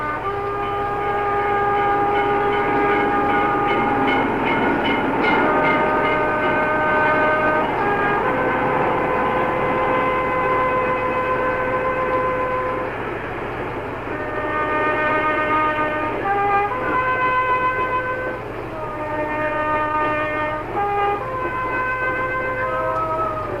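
A train carries the body of an assassinated senator past crowds in Baltimore in 1968, its steady rolling rumble heard alongside sustained horn-like tones that rise and shift through the passage, with no talk.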